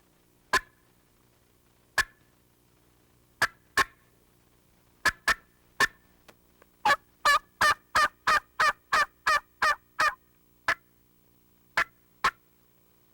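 Raspy mouth call imitating a wild turkey: a few spaced single clucks, then a quick run of about ten evenly paced yelps, then more scattered clucks, crisp and close with no talk.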